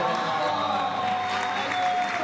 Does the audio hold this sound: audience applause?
yes